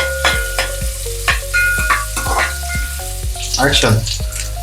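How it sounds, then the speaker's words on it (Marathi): Finely chopped onion fries loudly in two spoons of hot oil for a village-style mutton rassa. A steady close sizzle runs throughout, and a spatula scrapes the pan in regular, repeated strokes. "आता बारीक कट केलेला कांदा घालायचा आपल्याला कांदा व्यवस्थित लालसर भाजून घ्यायचा"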